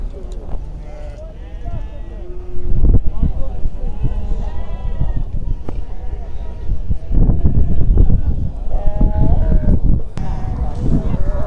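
Sheep, lambs and goats bleat steadily in a busy livestock market at Maştağa, Azerbaijan. Overlapping calls rise and fall close by, with people talking among the animals and crowd noise.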